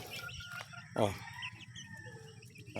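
Free-ranging chicks let out to forage and feed, giving soft scattered peeps and clucks with a louder call near the one-second mark, over a steady farmyard background.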